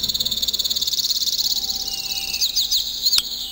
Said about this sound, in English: those birds are loud